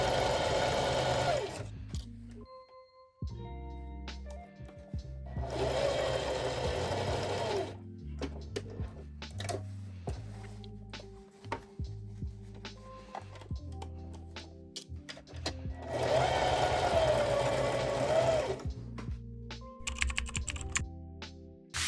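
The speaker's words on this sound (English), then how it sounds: "I really like to stitch from this side and fold the main panel out of the way." A sewing machine stitches a tote bag panel in several bursts. Its rapid mechanical whirring runs close and loud, and quieter clicks and handling fill the pauses between runs.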